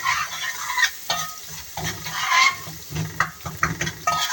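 Garlic and spices frying in a pan for a liver and gizzard tray, a crackling sizzle under repeated scraping stirs, irregular and close, with no voices.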